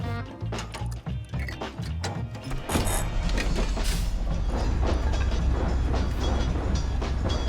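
A train ride in the survival game Rust: clattering, irregular clanks build into a loud, steady rolling rumble of wheels on rails, heard close with no speech.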